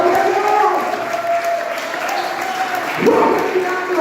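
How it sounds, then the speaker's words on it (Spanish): Congregation applauding during a Spanish-language church service in Mar del Plata, steady loud clapping with crowd noise throughout and a voice rising near the end. "Den un fuerte aplauso en esta mañana"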